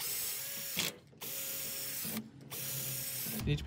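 A power drill bores into a stuck, broken washing machine drain filter plug in short bursts: a steady high whine for about a second, a brief pause, then another run, fairly close and quiet.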